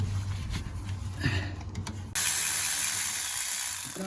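A ratchet socket wrench working on the starter bolts of a 2005 Ford Mustang 4.0, with quick clicking ratchet turns up close, then a louder steady mechanical hiss and whir taking over.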